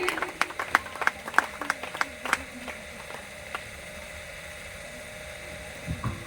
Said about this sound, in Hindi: आप लोग एक बार ममता मैम के लिए जोरदार तालियां बजाएंगे